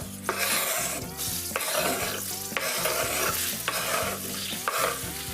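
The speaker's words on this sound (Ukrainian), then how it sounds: "Цибульку ми будемо смажити на суміші оливкової олії та вершкового масла." Onions sizzle loudly in a mix of olive oil and butter, with a spatula scraping and stirring the pan in a steady rhythm about once a second.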